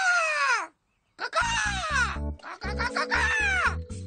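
Children imitate bird calls with a voice to attract birds, giving several sharp, wailing falling squawks, some alone and some over a droning tonal background, with a short silent gap between.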